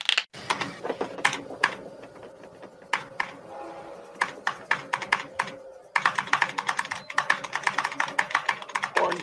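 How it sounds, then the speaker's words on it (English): Rapid, steady typing on a computer keyboard sounds up close and loud as a dense run of crisp key clacks. There is a short pause partway through, then the typing continues at a faster pace. "Scotty cracks his knuckles and begins typing."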